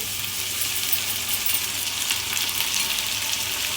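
Ground tomato puree frying with onion and curry leaves for a Godavari-style fish curry, a steady close sizzle with no voices.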